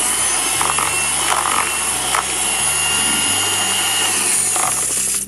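Electric mixer beating lemon bundt cake batter, a loud steady whirring motor hum with shifting pitch steps and faint scraping, cutting off abruptly at the end.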